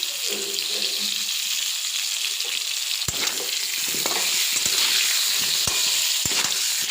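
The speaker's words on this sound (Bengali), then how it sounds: "আলুগুলো ভাজা হয়ে গেছে। এরকম লাল লাল করে আলুগুলো ভেজেছি" Potatoes frying in a wok give a bright continuous sizzle, broken by several sharp knocks and scrapes of a utensil against the pan in the later part, with no speech.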